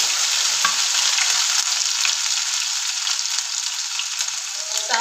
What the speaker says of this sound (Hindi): अब हम इसमें अदरक लहसुन का पेस्ट डालेंगे और फ्लेम को बिल्कुल स्लो कर देंगे